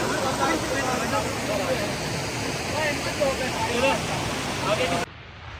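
Mountain rivers and waterfalls give a loud, continuous rushing roar of water, mixed with some wind, which cuts off suddenly at the end.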